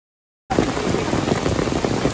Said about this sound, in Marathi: पाऊस बघा कसला तुफान आलाय,